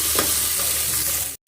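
Onions and tomatoes sautéing in a pan, a loud, close, continuous sizzle with stirring that cuts off abruptly just before the end.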